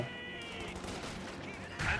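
Machine gun fire from a World War II battle in the strategy game Company of Heroes 2, heard as a brief rattling burst under a voice.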